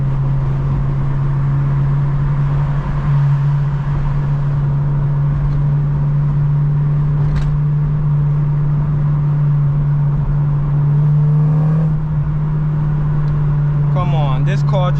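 An 8th-generation Honda Civic Si with a VTEC engine drones steadily while driving, a loud constant engine hum that swells as it downshifts and revs near the end.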